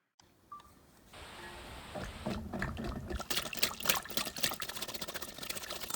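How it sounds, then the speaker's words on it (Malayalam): Vanilla essence goes into cake batter for a Kerala plum cake: a thin liquid trickle and clink at the start, followed by louder clattering and mixing noises close by, with no talking. "ഇനി അടുത്തായിട്ട് ഇതിനകത്തേക്ക് 1 ടീസ്പൂൺ വാനില എസൻസ് ആഡ് ചെയ്ത് കൊടുക്കാം"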